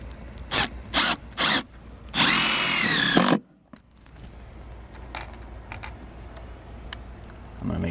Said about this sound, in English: we can go ahead and start shooting in our flat-headed screws